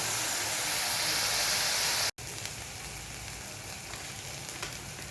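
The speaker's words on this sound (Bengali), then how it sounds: "পেঁয়াজ বাটাটাকে ভালো করে কষিয়ে নেব।" Steady, dense sizzling of onion paste frying in a pan for chicken kofta curry, loud and continuous with one brief cut partway through.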